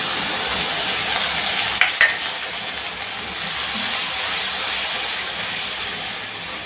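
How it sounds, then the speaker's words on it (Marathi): A ground spice paste fries in a pan with a continuous hiss and sizzle, close and even, broken by a couple of faint clicks from stirring. "आणि वाटण पण छान असं परतून घ्यायचं."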